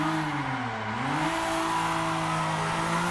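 Toyota Supra drifting in Assetto Corsa on a Thrustmaster wheel, a steady high engine drone whose pitch dips and then climbs again, with a faint tire hiss running underneath.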